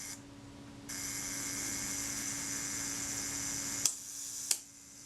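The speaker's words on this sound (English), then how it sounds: "The shutter should fire." A Reflex IV camera's self-timer whirs with a steady mechanical hum, then two sharp clicks snap close together near the end as the shutter fires and closes.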